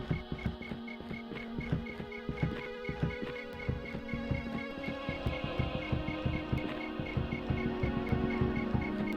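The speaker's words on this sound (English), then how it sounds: "The maddening tones of the tower's magic still present, apparently." Magical droning tones around a tower in the Aidyn Chronicles video game, a steady low hum with rhythmic throbbing pulses that repeat evenly and stay alone throughout.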